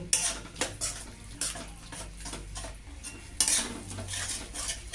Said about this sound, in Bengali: দিয়ে মশলাটাকে আবার কষতে থাকবো